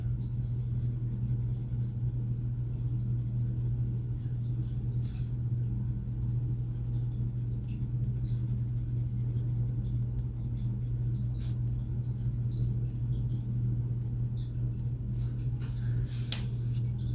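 A light gray-green colored pencil burnishes paper in a coloring book, giving a faint, continuous scratchy rubbing over a steady low hum, with a few soft taps scattered through.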